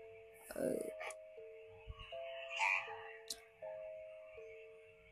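A phone ringtone imitating a croaking frog plays in short repeated tonal bursts, with brief clicks and faint sounds around it and no speech heard.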